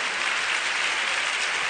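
Brief burst of audience applause at a book and booktuber event, a dense, uniform patter of many hands with no pauses.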